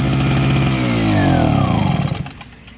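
A 1 kW Kraft KD-132 inverter generator engine runs steadily up close, its buzzing mid-pitched drone holding for about two seconds before dropping away and winding down toward the end.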